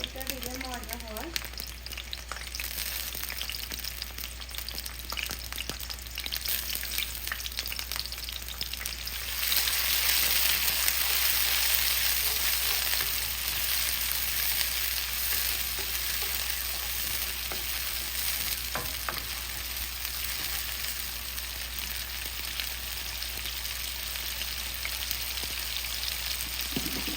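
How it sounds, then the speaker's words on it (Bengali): Chopped onion frying in olive oil, a continuous sizzle and crackle that swells louder partway through as the onions hit the heat, with occasional stirring close by. "অলিভ অয়েল দিয়ে করতেছি। দিয়ে দিতেছি পেঁয়াজ কুচি।"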